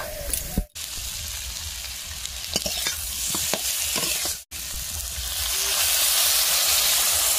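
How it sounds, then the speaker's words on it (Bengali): Egg, potato and eggplant frying in oil in a village kitchen, a steady close sizzle and hiss with stirring clatter, briefly cut twice, swelling louder toward the end. "আর ওইদিকে ডিম আলু বেগুন ভাজা করছি।"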